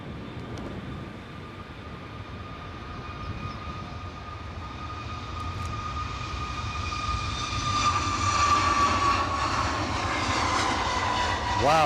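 A jet airliner takes off from Edinburgh airport early in the morning, its engine roar building steadily and rising in pitch as it climbs away, heard fairly close and alone.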